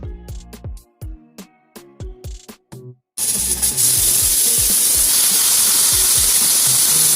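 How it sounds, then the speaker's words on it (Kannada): A pressure cooker cooking vegetable pulao lets out a loud, sustained steam whistle that hisses steadily for several seconds. It comes after a run of short clinking, tapping kitchen sounds. "ಇವಾಗ 3 ವಿಷಲ್ ಆಗಿದೆ."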